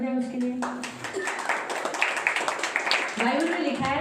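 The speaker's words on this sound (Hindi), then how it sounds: "हाँ, ताली बजाए उसके लिए।" A church congregation claps together for a few seconds at a Friday service, scattered hand claps blending under a speaking voice.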